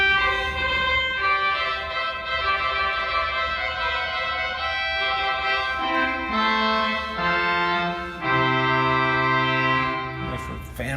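A loud trumpet stop on a refurbished Austin pipe organ plays a bright, brassy sustained chordal passage, with held notes shifting in pitch and volume continuously and no speech.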